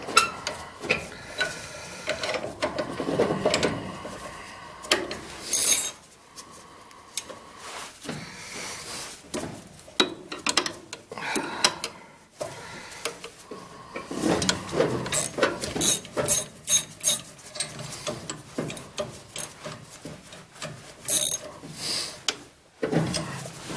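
An orbital flare tool cranks down on tubing during oil furnace work. Close, irregular mechanical clicks, ratcheting ticks and metallic scrapes repeat throughout, with brief pauses between bursts.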